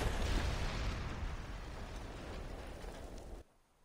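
A large explosion in a Far Cry 3 cutscene: a loud, dense roar with a heavy low-end rumble that slowly fades over several seconds, then cuts off abruptly.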